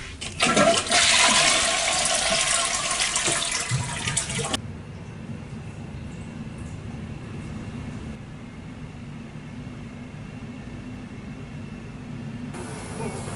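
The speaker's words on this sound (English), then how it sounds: "I hooked up this toilet this morning and everything seems to work pretty good" A newly installed toilet flushes loudly and close for about four seconds with a rushing, swirling surge, then the tank refills with a steady, quieter hiss of running water.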